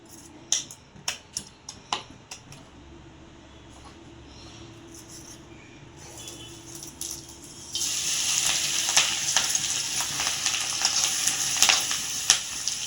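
A coarse ground paste hits hot oil for dill greens cooked with moong dal; a few sharp clicks and taps come first, then a loud, steady sizzle bursts in and keeps crackling to the end.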